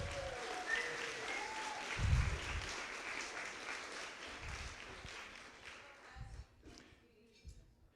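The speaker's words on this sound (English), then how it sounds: "Please give her a nice round of applause." Wedding guests applaud during the reception speeches. The clapping is soft and scattered, with a few low thumps and murmuring voices, and it fades toward the end.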